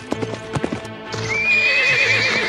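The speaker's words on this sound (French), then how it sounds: "C'est Dragon, le cheval de la princesse. Pourquoi revient-il seul?" A horse's hooves clip-clop in a quick run of beats, then a loud, drawn-out neigh follows, close and clear, with no talk over it.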